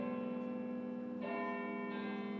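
A single bell rings from the refurbished bell tower of the historic stone Oneida Stake Academy building, its sustained tone rich with steady overtones that hold and swell without any voices.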